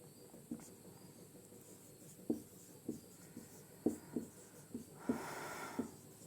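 Writing notes during a physics lesson, a series of soft irregular taps and scratches from pen strokes, close and quiet, ending in a brief louder rustle.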